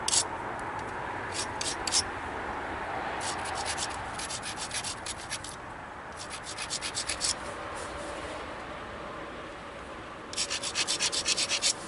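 The edges of a flint-knapped Mookaite point are ground in a steady rasping scrape of stone on stone, with sharper scratchy bursts near the start, in the middle and at the end.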